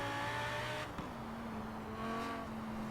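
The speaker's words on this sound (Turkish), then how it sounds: "Orada şehirde gazlayalım" A BMW E92 M3 in Forza Horizon 4 on Edinburgh city streets, its engine droning steadily, then snapping through a gear change and climbing again, loud and close with no talking.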